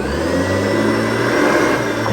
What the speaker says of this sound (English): it is a pretty loud vacuum, but I don't mind because it works so well